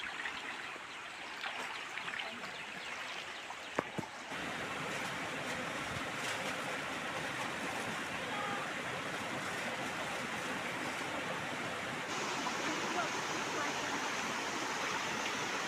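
Steady rushing of a river in the Konkan countryside, a broad continuous wash of flowing water close by with a brief splash near the start and no break throughout.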